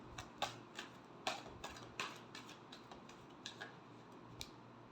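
Tarot cards shuffled by hand in a final shuffle, giving a run of light, crisp riffling ticks and flicks at close range with no voice over them.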